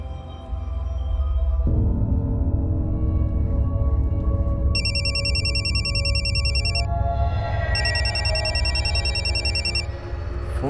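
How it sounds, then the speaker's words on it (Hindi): A telephone rings unanswered in repeated electronic trilling bursts with gaps between them, loud over a steady dramatic music bed. "फोन क्यों नहीं उठा रही?"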